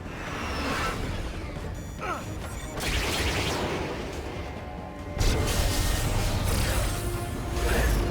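Incoming missiles in the video game Metal Gear Rising: Revengeance, aboard a transport chopper: loud bursts, whooshes and crashing impacts over a constant rumble, with a heavy hit around the middle and dense noise afterward.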